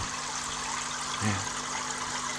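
Water swirls in a vortex-flow aquarium tank built for small shrimp, a steady, soft rushing and trickling wash with a brief gurgle midway, close and unbroken, with no talking.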